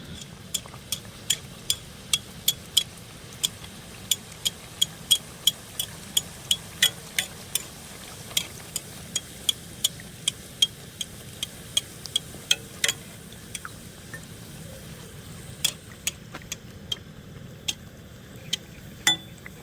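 Luchi, a puffed flatbread tinted with natural colour, fries in well-heated oil over medium-low flame, a soft steady bubbling broken by scattered sharp crackles and pops, close by, with no one talking.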